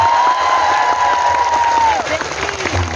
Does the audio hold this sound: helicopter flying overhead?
no